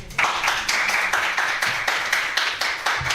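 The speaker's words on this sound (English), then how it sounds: "Round of applause, please." Rhythmic clapping from an audience, a quick even pulse of loud hand claps repeating about every third of a second, close and without talk.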